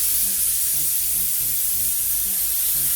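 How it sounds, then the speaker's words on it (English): A compressed-air hose blowing plaster into the pockets of a mold makes a loud, continuous, close hiss that stays steady throughout, with no voices. "Once I get the plaster in there, I take my air hose, and starting really high up,"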